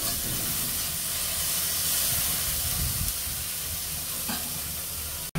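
Potatoes frying in a pan make a steady, even sizzling hiss, close and fairly loud throughout, ending with a brief clatter.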